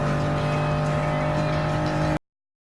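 A racing car engine roars steadily through Spoon Corner at Suzuka in Gran Turismo Sport, a loud sustained drone with strong low harmonics that cuts off abruptly into silence.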